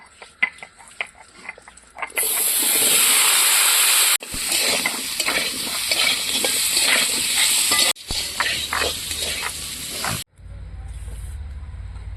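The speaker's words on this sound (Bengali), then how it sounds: "এখন ভেজে নেব আমি এখানে কেটে রাখা ওলকপি আর হচ্ছে গিয়ে আলু" Cut kohlrabi and potatoes fry in a pan with loud, steady sizzling, broken by a few clattering stirs. It starts soft, then swells into continuous hissing that carries through most of the clip.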